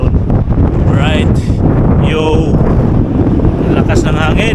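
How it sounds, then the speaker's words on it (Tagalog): Strong wind buffets an outdoor microphone in Pangasinan, a loud continuous rumble with gusty roar throughout, while a person talks faintly beneath it. "lakas ng hangin"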